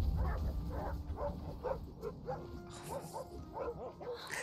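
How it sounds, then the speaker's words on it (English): A wolf in The Red Lantern video game gives a run of short barks and yips, with soft whimpers between them. The calls come at an uneven rhythm and sound fairly close over faint background sound. "Oh my god, it's a little wolf friend."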